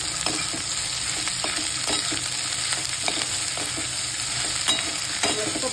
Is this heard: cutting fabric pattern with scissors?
no